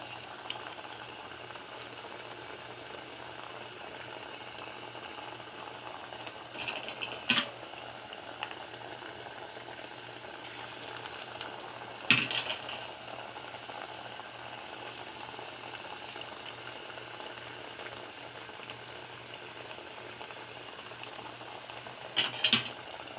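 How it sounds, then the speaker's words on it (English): Plantains frying in hot oil, a soft steady bubbling crackle throughout, with a few brief louder clicks or knocks scattered across, fairly quiet and without speech. "I'm gonna fry them for another 3 to 4 minutes or so."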